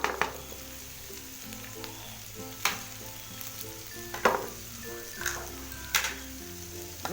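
Chicken and vegetable fried rice sizzling in a pan, a steady close frying hiss with periodic scrapes and clinks as it is stirred, over a low continuous background drone, no talking.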